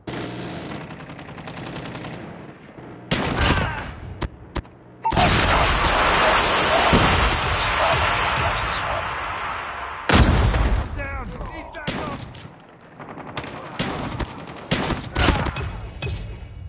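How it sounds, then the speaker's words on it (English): Rapid automatic gunfire and bursts from a sentry gun in a Call of Duty match on the Nuketown 2 map, loud and close, with booming blasts and radio-style voice callouts over the shooting. "Hostile sentry gun in your AO."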